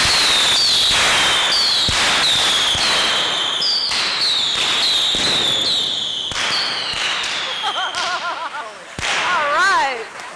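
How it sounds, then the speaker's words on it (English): Fireworks go off repeatedly at a certification launch event, a rapid run of sharp cracks and whistling bursts with some crackling, loud and close, with faint crowd voices beneath. "All right, we have fireworks"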